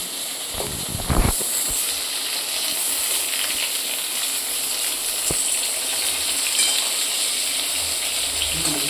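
Pointed gourd frying in oil in a covered pan over a gas flame, giving a steady, loud sizzle and hiss throughout, with a few brief clatters early on.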